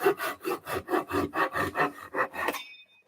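A hand saw rips along the grain of a board in about eight even, rasping push-pull strokes, close and clear, ending as the cut finishes.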